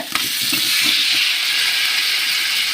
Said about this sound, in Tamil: பாருங்க தக்காளி போட்டு வதங்குது